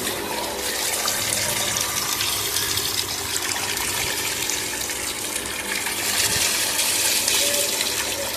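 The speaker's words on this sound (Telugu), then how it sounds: "ड्रेनेज वाटर है।" Dirty drainage water gushing steadily from a tap, a loud continuous broadband rush of flowing water with no pauses.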